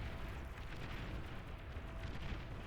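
Plasma cannon shells firing and bursting in the strategy game Beyond All Reason, heard as a dense, continuous rumble of low booms and crackling impacts at moderate loudness with no clear gaps.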